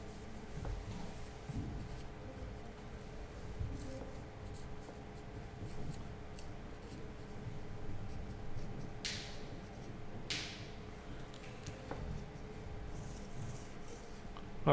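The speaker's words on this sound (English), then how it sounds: "I'll just write it out again." A pen moves across paper as a maths limit is written out by hand, a soft, steady scratching that runs continuously at close range in a quiet room.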